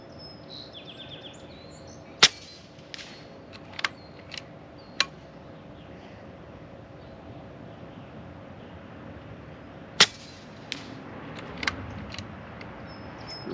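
A Kalibrgun Cricket II tactical air rifle fires on a range, each shot a short, sharp crack over quiet background, about eight scattered shots in two loose groups, with no talking.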